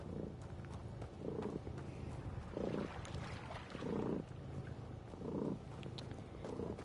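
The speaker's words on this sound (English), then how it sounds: "and now she's purring." Domestic cat purring on a lap, a soft close rumble swelling in regular pulses about once a second with each breath, faint and steady with no talk.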